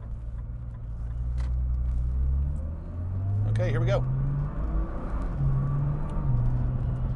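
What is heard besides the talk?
sports car accelerating through gears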